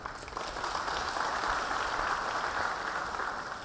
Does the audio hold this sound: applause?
yes